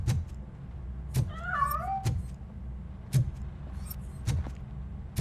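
A cat meows once in the RoboCop: Rogue City video game, a short wavering call heard between several sharp thuds and clicks against a low ambient hum.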